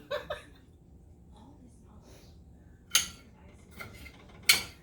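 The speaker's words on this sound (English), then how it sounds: "it's more exciting to cut on antique plates" A knife clinks and scrapes against an antique china plate while cutting food for a shipwreck casserole, giving a few sharp, close metallic taps amid soft kitchen background and light talk.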